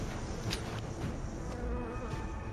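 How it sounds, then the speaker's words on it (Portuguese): A swarm of killer bees in a cave makes a dense, steady buzz that hums continuously at a low, faint level, with a few brief louder passes. "acaba assustando uma enorme colmeia de abelhas assassinas"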